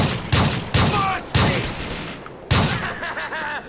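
Shotgun blasts in Grand Theft Auto IV: four loud, sharp booming shots spaced out over a few seconds, each with a decaying tail, mixed with game sounds and no talk.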